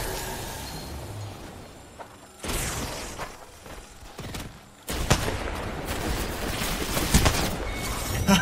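Kraber sniper rifle shots ring out in a video game, with two loud, sharp blasts and their echoing tails standing out against quieter mechanical in-game noise.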